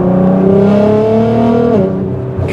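A modified Nissan GT-R R35 accelerates hard, its engine note climbing loudly and smoothly through the revs before a brief shift dip near the end, heard up close and alone.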